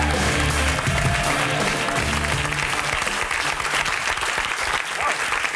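A TV talk-show studio audience claps loudly and steadily throughout, with a faint musical tone underneath early on and occasional voices mixed into the applause.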